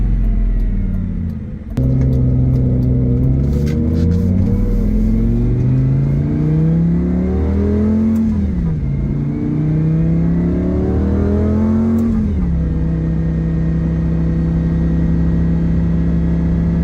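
A 2006 Lamborghini Gallardo engine revs up in rising sweeps, with a brief gear change dip, then a steady roaring drone; loud and close, no talking.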